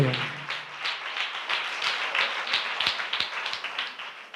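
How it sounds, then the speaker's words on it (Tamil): A church congregation claps hands in thanks during a Tamil sermon, a steady dense patter of many hands at moderate loudness that continues throughout without talk. "நல்ல கைத்தட்டி ஆண்டவருக்கு நன்றி சொல்லுங்களேன்"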